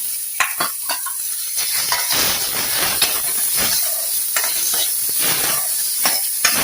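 Tomato and onion sizzling and frying in a pan for mint chutney, with steady close hiss and repeated scraping stirs throughout, no talk.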